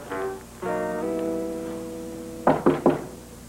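Three loud, close knocks on a door, sharp and evenly spaced, following a sustained musical tone in a television drama scene.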